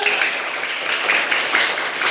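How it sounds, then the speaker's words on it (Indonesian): A short burst of scattered applause in a classroom, many hands clapping unevenly at moderate volume, brief and close. "Tepuk tangan dulu untuk kita."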